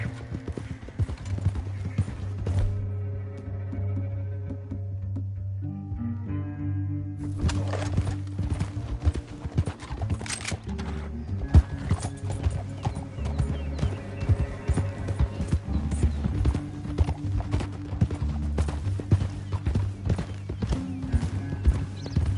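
Steady clip-clop of horse hooves trotting in Red Dead Redemption 2, with occasional whinnies over a droning musical backdrop, loud and continuous throughout.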